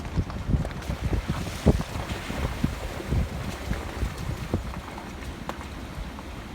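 A full creek rushes steadily outdoors on a farm in light rain, a broad wash of noise with gusty wind buffeting the microphone now and then.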